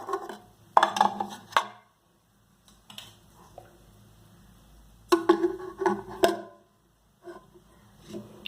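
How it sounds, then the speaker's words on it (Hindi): Several short clinks and clatters of metal cake tins being set down inside a pressure cooker, in two brief clusters separated by quiet, close and moderately loud. "इसलिए मैं दोनों केक पॉट को एक ही साथ में अंदर डाल रही हूँ।"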